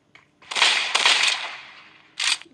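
Several loud bursts of rapid gunfire from a shooter video game, separated by brief pauses, with a final short burst near the end.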